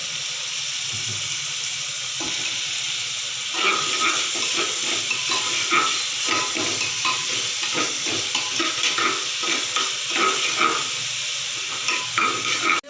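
Vegetables sautéing with salt in a pan for a green pea kurma, a continuous close sizzle that grows louder partway through, with repeated scraping and stirring strokes and no voices.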